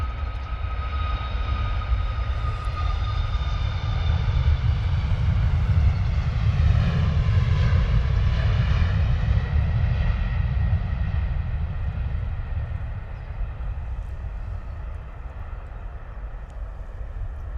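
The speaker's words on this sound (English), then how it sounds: "Beautiful departure there from the Ryanair." A Ryanair jet airliner departs with a loud, sustained engine roar that swells and then slowly fades, with a rising and falling whine over a deep rumble.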